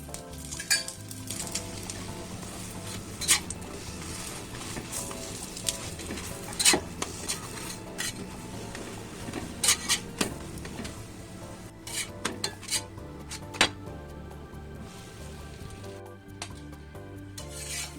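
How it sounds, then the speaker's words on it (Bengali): Jackfruit-filled triangular parathas frying in a pan on a medium gas flame, a steady close sizzle with scraping and rubbing of a spatula and occasional sharp clinks of metal utensils against the pan, no voices. "বাকি তিন কোনা পরোটাটাও ভেজে নেব।"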